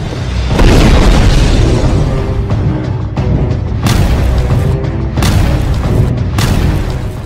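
Explosions from an attack in war footage of the Hezbollah–Israel fighting, a series of loud booming blasts and bursts recurring through the stretch, with no talk.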